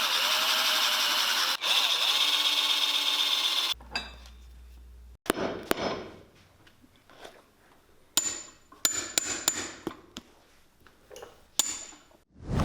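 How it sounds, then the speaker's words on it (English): A power driver buzzes steadily, then a series of sharp clicks, knocks and short whirring bursts as screws are driven into the soles of biker boots, close and fairly loud. "put some screws in the soles"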